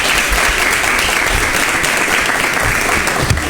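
Studio audience of students applauds in a live midday broadcast, a loud, dense, unbroken burst of clapping close to the microphone for a few seconds.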